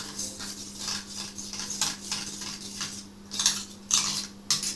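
Mustard paste being stirred with oil in a bowl for a Bengali mustard fish curry, heard as a steady series of close scraping, clinking strokes of a utensil against the bowl, with a few sharper louder knocks near the end.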